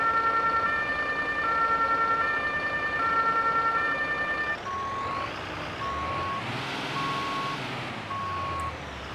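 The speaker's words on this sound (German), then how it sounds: "wir haben jetzt das E-Horn" Electronic siren of a fire truck in the emergency-response game Notruf 112, a steady, loud, close wail of repeating two-tone electronic beeps sounding alone over a low engine rumble.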